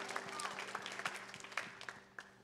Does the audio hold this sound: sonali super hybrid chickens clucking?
no